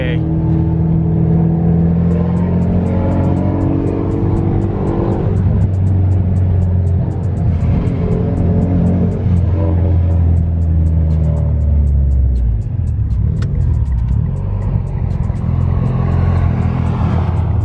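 Car engine on a test drive after a carbon-fibre and leather wrap install, a loud, steady rumble with rising and falling revs throughout, while people talk over it inside the cabin.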